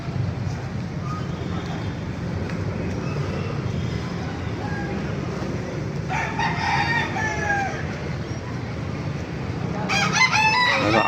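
Roosters crow and chickens cluck amid a noisy outdoor livestock market crowd, a steady din underneath, with a loud near crow bursting out toward the end.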